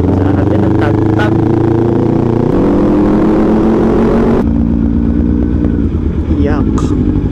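Kawasaki Ninja 400 motorcycle fitted with a new exhaust pipe, riding along with a steady, loud engine drone that shifts pitch partway through, with wind noise and people talking over it.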